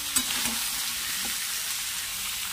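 Beetroot, potato and peas fry in a pan with capsicum and pumpkin, giving a steady, close sizzle with faint stirring scrapes throughout and no talk.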